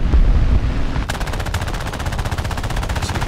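Machine guns on a Fury Mk I fighter plane in War Thunder rattle in rapid, evenly spaced bursts, loud and close, over a constant engine drone.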